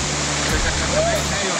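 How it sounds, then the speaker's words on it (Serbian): Water rushes down a released waterfall during canyoning on the Tribuća river, a loud steady roar of falling water filling the short moment, with a brief low thump near the start. "Kreće voda."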